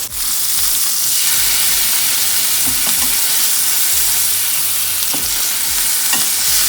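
Salmon pan-frying in a pan for a creamy garlic butter dish, giving a loud, continuous close sizzle with a few sharper crackles and no talking.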